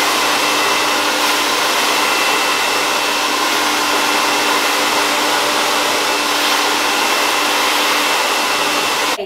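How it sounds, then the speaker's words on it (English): A hair dryer blowing steadily and loudly up close while hair is blow-dried, a constant whooshing drone with no talk. "Done with the blow drying."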